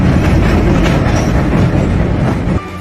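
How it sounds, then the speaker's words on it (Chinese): A subway train rumbles along the tracks, loud and close, with a steady clattering roar that drops off abruptly near the end. "地铁开了一半也停了。"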